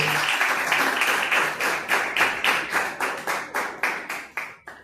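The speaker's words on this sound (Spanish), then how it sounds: "Dale un fuerte aplauso a la presencia de Dios." A church congregation claps in praise: loose applause at first, then settling into steady rhythmic handclaps, close and fairly loud, with no voices over it.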